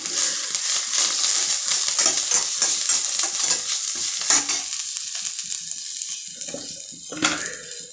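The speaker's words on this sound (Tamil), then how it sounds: "இதை வந்து நல்லா வதக்கிக்கலாம் இவங்களை நல்லா வதக்க வதக்க வதக்கணும்" Mudakathan keerai greens are sautéed in a pan for rasam, giving a close, busy sizzle with constant stirring that thins out toward the end into scattered scrapes and clinks.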